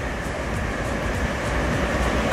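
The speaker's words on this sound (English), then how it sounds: "Oh, and there's a train going over the top." A train rumbles across a bridge overhead in the UK, a loud, continuous roar with faint rhythmic clatter, steady from start to finish.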